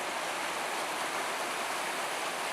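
Yosemite Creek flows past its picnic area in a soft, steady hiss of running water, moderately distant and unbroken, with no voices.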